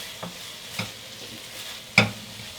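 Cauliflower chunks dropped into a pan for a chunky vegetable soup: three soft, close thuds with light sizzling between, the last the loudest.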